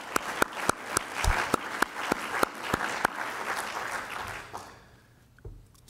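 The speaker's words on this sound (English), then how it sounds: "Let's give them all a round of applause." An audience at a university Kummer Day event breaks into sustained applause with sharp individual claps standing out, then the clapping thins and fades toward the end.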